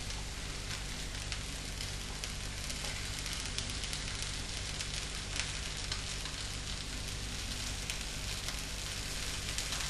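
A stir fry sits sizzling in the middle of a wok, giving a steady, dense, close crackling hiss that holds at an even level throughout with no talking.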